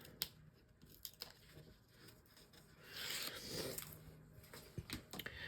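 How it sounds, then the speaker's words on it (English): Backing strip peeled from double-sided tape for a 7x7-inch mini album, a rasping tear that swells for about a second amid scattered clicks and paper handling, close and alone. "remove the tape backing."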